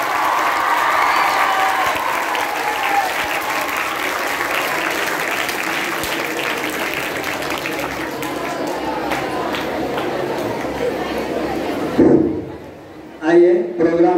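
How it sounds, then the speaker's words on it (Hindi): Applause from an audience at a Teacher's Day 2023 program, a loud sustained wash of clapping for about twelve seconds before it stops abruptly and a voice follows. "दो लाख तालियों के साथ"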